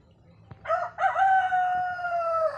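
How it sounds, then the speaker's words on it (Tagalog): A chicken calls near a brooding hen sitting on fifteen eggs in a broken washing machine: one drawn-out, crow-like call rises and holds for about two seconds, fairly close, over faint background noise. "pakita ko lang po yung aming manok na naglilimlim"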